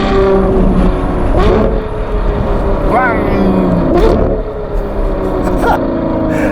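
Ferrari 812 GTS with a Novitec N-Largo exhaust driving on a snowy road, a loud, steady engine drone with shifting pitch and rising sweeps, a voice talking over it.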